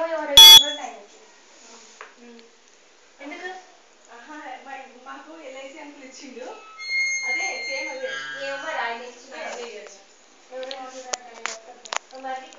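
A brief, piercing electronic beep from a car management system's obstacle buzzer sounds at the start, followed by a person talking at length, with a few high tones and clicks toward the end.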